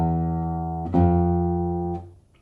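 Fretted string notes from a left-hand exercise ring out in quick succession with almost no gap between them, three clear plucked attacks over sustained tones that fade at the end; no talking.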